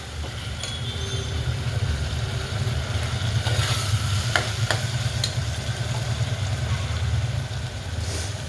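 Peanuts and thinly sliced potato sizzle in hot oil in a pan while being stirred, a steady close frying hiss with occasional scraping clicks of the spoon, no talking.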